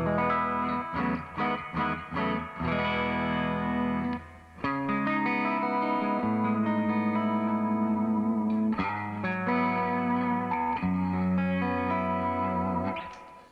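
Electric guitar chords and single notes ring out through a 1993 Crate amplifier with heavy reverb, sustained and washy, playing continuously without any talking.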